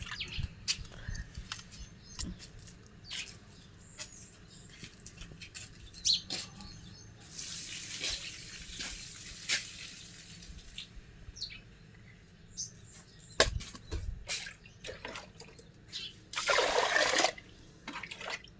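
Rice is rinsed by hand in water during an early-morning farm routine, with intermittent sloshing and trickling splashes close by and a few louder swishes near the end.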